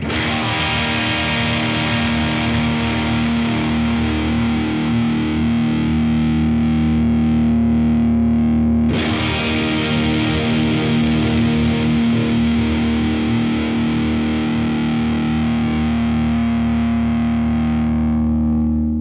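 Heavily overdriven electric guitar through the overdrive channel of a Blackstar HT Club 40 MKII amp holds a thick, sustained distorted tone, with a brief break midway before the dense crunch returns, loud and continuous.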